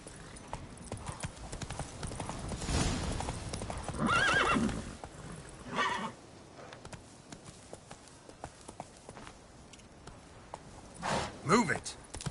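In the Witcher 3 game a horse's hooves clip-clop steadily at close range, with whinnies and neighs breaking through, while voices speak over it.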